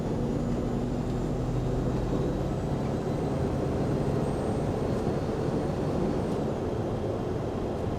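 An Earth Cruiser expedition truck on 37-inch tires drives along a road at about 30 mph, a steady broad rumble of engine and tire roar filling the cabin with little variation.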